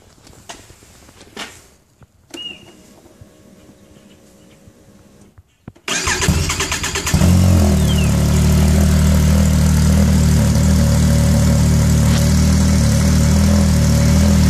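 A Yamaha SR Viper snowmobile fitted with an MBRP Trail Can aftermarket exhaust cranks and fires up midway, then settles into a loud, steady, throaty idle close by after some quiet fumbling noises.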